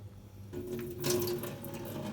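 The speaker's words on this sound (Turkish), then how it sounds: "Şöyle boşaltalım sarı suyunu." Yellow brine pouring out of a jar of green olives into a sink, a steady close splashing trickle that swells midway and keeps running to the end.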